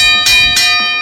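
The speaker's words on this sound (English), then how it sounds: "Mr. Thomas Brunette in our DJ booth, the bell ringer." A bell rung in a radio studio DJ booth sounds as two bright, ringing strikes about a third of a second apart, loud and close, with sustained tones lingering between them.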